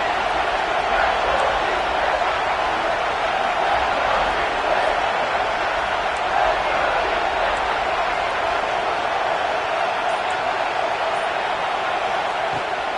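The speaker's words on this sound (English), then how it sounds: "this crowd is at fever pitch." A packed football stadium crowd roars in a constant, dense wall of noise during a tense third-down play in the red zone, with no letup and faint voices beneath.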